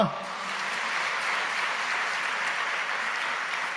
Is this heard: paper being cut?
no